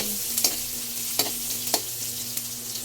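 Tofu sautés with garlic and onion in a pan, a constant close sizzle broken by several sharp clacks as a utensil stirs and taps the pan.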